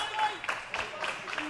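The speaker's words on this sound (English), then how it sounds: "Really cheering" Crowd at a table tennis Champions League match cheers and applauds in rolling bursts, loud and close, with a commentator talking over it.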